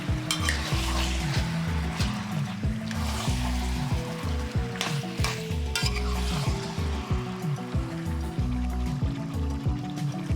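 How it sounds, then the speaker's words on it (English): Steady loud sizzling of pork frying in a pot for brown stew pork, with occasional stirring scrapes and bubbling throughout. "let the pork fry up for 20 minutes to get the color"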